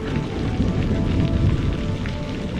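Steady rain falls in a cartoon story, a continuous dense wash of patter that stays even and unbroken throughout, with no voices over it.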